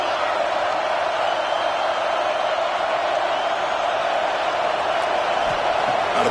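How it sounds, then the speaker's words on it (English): Football stadium crowd roaring on a third-down play, a dense, steady wall of distant cheering and noise that stays loud and even for several seconds. "Third down, and the crowd really getting into it."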